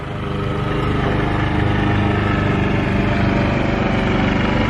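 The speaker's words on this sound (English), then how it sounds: "please excuse all the lawnmowers in the background" Several lawn mowers running steadily in the background, a continuous droning engine hum that swells slightly at the start and then holds constant.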